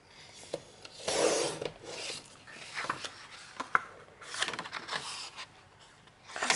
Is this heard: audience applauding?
no